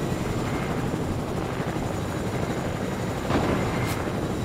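A helicopter in the video game Fortnite gives off a steady, loud, whirring rotor drone with no pauses, swelling briefly near the end.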